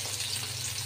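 Whole fish frying lightly in a pan, with a steady close sizzle of hot oil throughout and a low hum underneath.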